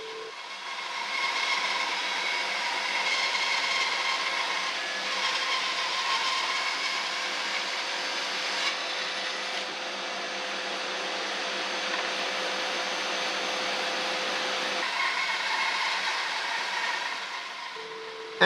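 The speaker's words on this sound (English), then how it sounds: "I'm going to cheat a bit and go through my bandsaw as shown here." Bandsaw resawing wood into drawer-bottom blanks in a workshop, a steady whining hum and cutting rasp that holds evenly for the whole stretch, moderately loud and with no talk.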